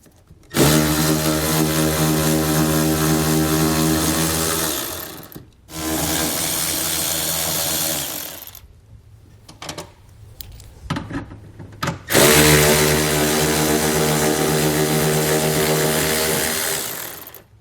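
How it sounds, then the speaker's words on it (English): Power tool with an 8mm socket spinning out bolts that hold the quarter panel to the fascia on a 2018 Ford Edge, three loud sustained whirring bursts separated by quieter clicks and handling noises, close with no talking. "So I'll grab an 8mm socket and pull all of those out."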